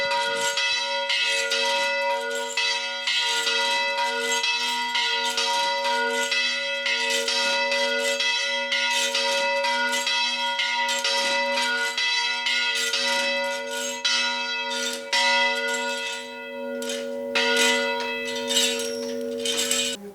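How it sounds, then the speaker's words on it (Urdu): Church bells at a church in Lebanon ring continuously in a loud, resonant peal, overlapping strikes with sustained humming tones layered throughout, heard fairly close with no voices. "اب آپ دیکھ رہے ہیں گھنٹیاں بجنی شروع ہو گئی ہیں۔"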